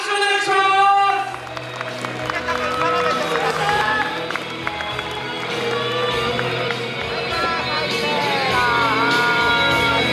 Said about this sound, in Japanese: 勝利を収めました俊太選手に、今一度大きな拍手をお願いします。